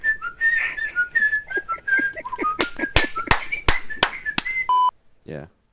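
Someone whistling a series of short, shifting pitched notes, close and clear, with sharp taps or snaps punctuating the middle and a brief electronic beep near the end.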